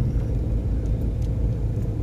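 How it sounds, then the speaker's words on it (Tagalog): Vehicles on a barge at a port rumble in a low, continuous drone, close and steady, with no voices over it. "Yan ang mga sasakyan."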